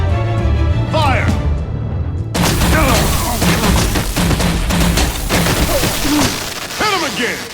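Gunfire in the video game Batman: The Enemy Within, a loud burst of repeated shots and booms after a shouted order, with crashing impacts and voices shouting over the chaos.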